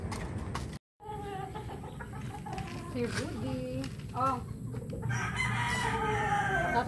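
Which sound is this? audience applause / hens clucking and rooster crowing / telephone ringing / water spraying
hens clucking and rooster crowing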